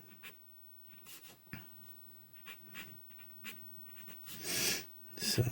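A pen scratching on paper while a stick figure is drawn, faint, quick strokes in short bursts separated by brief pauses, with a few louder scrapes near the end.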